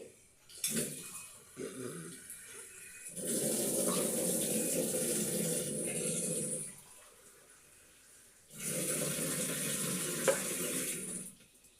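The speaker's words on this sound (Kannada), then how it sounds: "1 ಕಪ್ಪಿಗೆ 2 ಕಪ್ ನೀರು ಹಾಕಿ" Water is poured into rice semolina in two steady bursts of a few seconds each, close by, separated by a short quiet gap, with faint handling sounds before the first pour.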